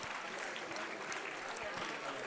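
Audience applause at an award ceremony for a youth parliament competition, a dense, steady wash of clapping from a crowd, fairly quiet and continuous throughout.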